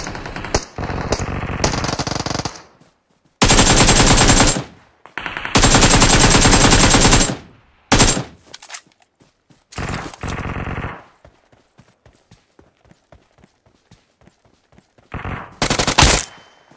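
Loud bursts of rapid automatic gunfire in the mobile game BGMI rattle out in several long volleys, separated by short gaps of near silence and scattered single shots.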